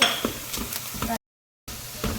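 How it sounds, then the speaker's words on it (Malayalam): Onions and spices frying in a pan for Muradabadi chicken biryani: a steady close sizzle with soft stirring scrapes, cut by a brief stretch of silence before the frying resumes. "ഈ സ്പൈസസും ഈ ഓണിയനും കൂടെ നല്ല രീതിയിൽ ബ്രൗൺ ആവുന്നവരെ വെയിറ്റ് ചെയ്യണം"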